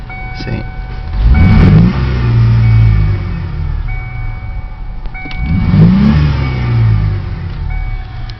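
A car engine is revved hard twice, each rev climbing sharply and then falling back to a steady idle between bursts, loud and close.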